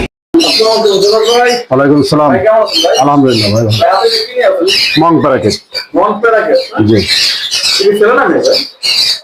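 Loud, harsh squawks and chirps from parrots and other cage birds in a bird shop overlap in a busy, continuous chorus, close by, with many birds calling at once.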